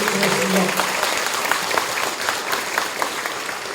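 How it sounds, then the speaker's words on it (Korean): Audience applause at a Korean political lecture event in Gapyeong, steady dense clapping from a crowd, moderately loud, with a few voices underneath. "우리 큰 박수 한번 보내주시기 바랍니다"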